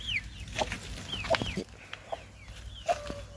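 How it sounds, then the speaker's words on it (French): Hens and small chicks in a backyard garden coop, with repeated clucks and high peeping chirps close by, no talking. "Les petits poussins qui ont toujours faim."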